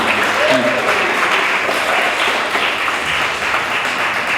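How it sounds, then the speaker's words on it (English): An audience at a youth summit applauds in a sustained, even wash of clapping that holds steady from start to finish. "A round of applause."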